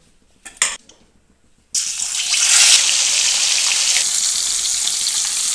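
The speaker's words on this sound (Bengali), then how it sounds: "এবার একে একে রুই মাছগুলো দিয়ে দেবো দিয়ে লাল লাল করে মাছগুলো ভাজা ভাজবো" Pieces of rohu fish drop into hot oil in a wok, setting off a loud, steady sizzle right after a few brief clatters, then frying continuously and close by.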